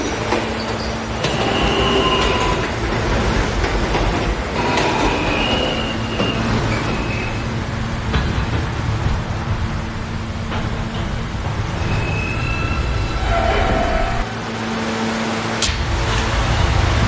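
A New York subway F local train rumbles steadily along the rails, with a constant low roar, clattering wheels and occasional brief metallic squeals.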